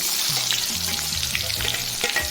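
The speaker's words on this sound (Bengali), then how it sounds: "পেঁয়াজটাকে একটু লাল করে ভাজবো" Chopped onions sizzle in hot oil with cardamom, cinnamon, bay leaf, dried red chilli and cumin, while a spoon scrapes and stirs the pan in uneven knocks over a steady frying hiss. No one speaks.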